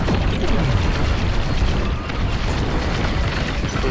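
A torpedo detonates in a Star Wars Squadrons space dogfight, a dense rumbling boom that rolls on as a loud, continuous roar of engine noise and combat effects with no clear voices.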